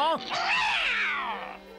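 Gargamel's cartoon cat from the Smurfs, in a Hindi dub, lets out a loud drawn-out voiced meow that bends up and down in pitch, close and prominent over the soundtrack.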